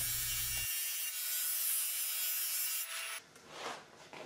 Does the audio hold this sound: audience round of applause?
no